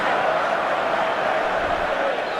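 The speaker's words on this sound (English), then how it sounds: "Listen to the home side, Rocky." A home crowd roars at a rugby league match in the rain, a dense continuous wash of cheering and voices, loud and sustained throughout.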